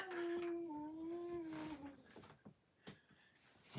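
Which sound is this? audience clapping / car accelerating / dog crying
dog crying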